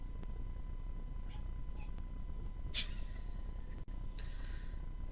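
A house cat gives a couple of brief, squeaky meows, faint and alone over a steady background hum in a quiet indoor room.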